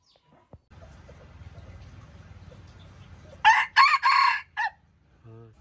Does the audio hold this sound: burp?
no